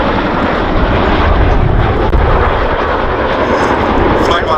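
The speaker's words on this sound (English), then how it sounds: "the Chinook is going to break away shortly to perform a 60-degree offset wingover away from crowd centre" RAF Chinook helicopter in a flying display at Duxford Air Festival, a loud, steady rotor and engine roar filling the whole stretch, close and unbroken, with a voice faintly underneath.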